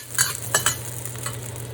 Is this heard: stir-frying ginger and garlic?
yes